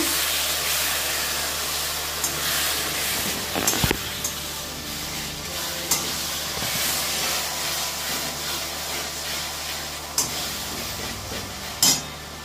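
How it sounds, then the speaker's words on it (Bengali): Meat masala and ginger-cumin paste sautéing in a pan give a steady close hiss and sizzle throughout, with occasional sharper scrapes and clacks of stirring. "বন্ধুরা আমি আদা জিরে বাটা দিলাম আর মিট মশলা দিয়ে দিলাম, দিয়ে এবার কষিয়ে নিচ্ছি।"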